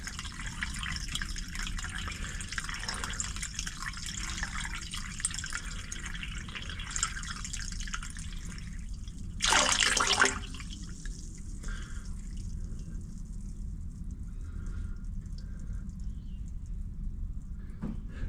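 Water flows through a blocked drain line, heard as a faint steady trickle and dripping, broken by one brief loud gush of rushing water near the middle.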